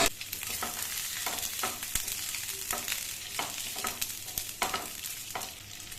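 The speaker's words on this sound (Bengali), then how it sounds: "বলগুলো দিয়ে হালকা ফ্রাই করে নেব" Chicken balls fry in a little hot oil in a frying pan, with a steady crackling sizzle and occasional scraping stirs and light knocks of the spoon against the pan.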